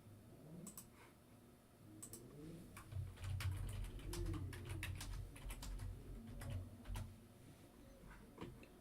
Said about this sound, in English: Should just be able to start typing.